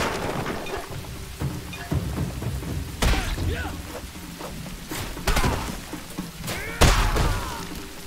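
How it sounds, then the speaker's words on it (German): Thunderstorm with rain in the video game 9 Monkeys of Shaolin: steady rain hiss broken by several sharp, loud thunder cracks and rumbles, some with brief crackling tails, with no speech. "Es gab eben Gewitter. Das hört sich über Kopfhörer so extrem an."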